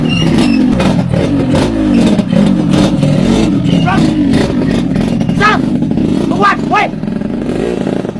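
A motorcycle engine is revved hard and loud nearby, its roar rising and falling continuously while people talk over it.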